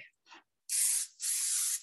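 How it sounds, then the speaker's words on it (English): Pam cooking spray hisses into a pan in two short bright aerosol bursts, close and clear, after a couple of faint rustles. "I'm just gonna spray a little bit of Pam just so that it doesn't stick"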